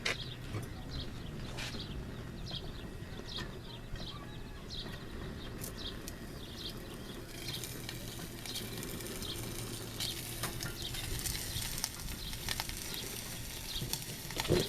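Sausages frying in a metal canteen cup over a camp flame, a steady close sizzle and spatter with faint crackling pops throughout, no talking.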